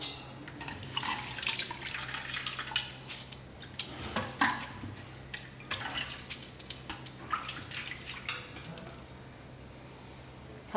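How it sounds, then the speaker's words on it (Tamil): Millet grain is rinsed by hand in a bowl of water so stones settle to the bottom, with steady close sloshing, swishing and dripping and no talk. "இந்த மாதிரி அலசும் போது கல் ஏதாவது இருந்தாலும் அடியில் நின்றுக்கும்"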